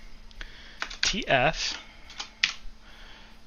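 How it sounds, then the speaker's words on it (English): Clicks of a computer keyboard as a console command is typed for a Team Fortress 2 demo, a few scattered keystrokes under a voice. "what we want to do is we want to type in console play demo"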